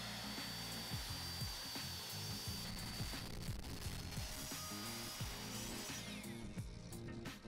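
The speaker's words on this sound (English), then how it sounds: "Then I could cut off that strip on the miter saw" A miter saw cuts maple wood into strips, a continuous loud whining buzz with repeated blade bites running steadily throughout, with no speech.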